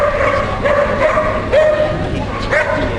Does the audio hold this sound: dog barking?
yes